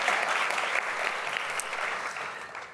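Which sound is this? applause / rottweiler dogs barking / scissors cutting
applause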